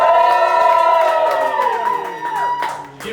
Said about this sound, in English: Give us a cheer if you think that it's Liam.